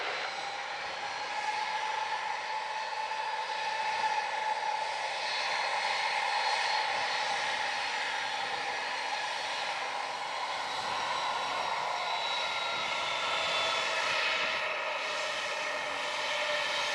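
American flight 875, an airliner, sits at runway 07 at Montego Bay in Jamaica while its engines roar in a steady, broad, distant drone with a faint whine. The sound stays level and continuous with no voices.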